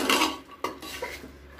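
Chickpeas being stirred with spices in a pan for Punjabi chhole: a metal spoon scrapes and clanks against the pan in a few quick strokes, close and fairly loud, with no speech.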